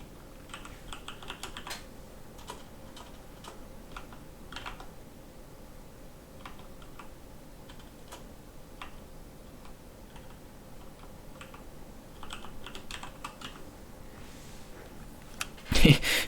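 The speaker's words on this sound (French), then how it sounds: "faut taper plein de trucs" Keys on a computer keyboard clatter in scattered bursts of typing while setting up a FUT 18 team, fairly close and moderately quiet, with a louder thump at the very end.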